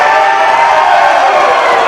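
Loud, unbroken roar of a crowd cheering at a live pro wrestling show, a dense wall of voices and whoops holding at the same level throughout, with no clear single voice standing out.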